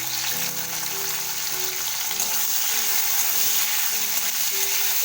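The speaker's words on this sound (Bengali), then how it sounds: "এবার চিংড়ি মাছগুলো একে একে ভেজে আমি তুলে নেব" Shrimp fry in hot oil, a loud, steady sizzle and crackle throughout with a faint tonal hum beneath, no voices.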